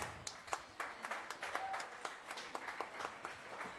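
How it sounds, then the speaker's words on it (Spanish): A church congregation claps for the mothers present at a Mother's Day service, a steady crowd of applause with scattered sharper hand claps, fairly distant and without talk. "pido un aplauso muy fuerte para todas nuestras mamis presentes"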